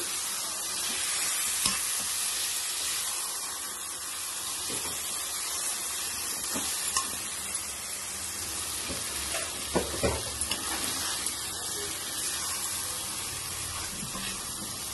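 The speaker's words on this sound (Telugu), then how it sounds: "దీన్ని ఇప్పుడు బాగా ఈ మసాలా దీనికి పట్టేటట్లు కలపాలి." Mutton keema is stirred into masala in a hot pan, giving a steady sizzle with repeated scraping and stirring strokes throughout, fairly close and unbroken by talk.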